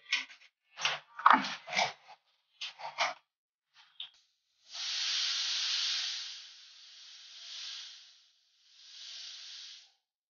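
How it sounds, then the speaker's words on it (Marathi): Several short bursts of hissing steam puff out of a pressure cooker cooking chana dal, followed by a long, steady jet of hiss that fades and returns twice, close and fairly quiet. "त्या कुकरला छान 2-3 शिट्ट्या दिल्या."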